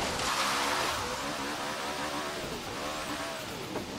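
The Hoonicorn V2 in Forza Horizon 3 roars through city streets, its engine revving and surging continuously with rising and falling pitch, loud and close, with no speech.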